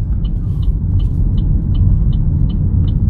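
A learner car pulling away on a road driving test course, a steady low engine rumble building under the cabin with a faint repeating tick of the indicator throughout, no talking.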